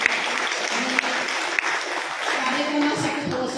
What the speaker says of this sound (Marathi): एकदा परत याच्यासाठी टाळ्या वाजवूया